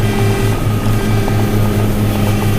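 A drone with active tracking flies nearby, giving a loud, steady propeller whine and buzz that holds unbroken throughout, with no talking.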